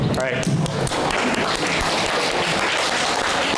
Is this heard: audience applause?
yes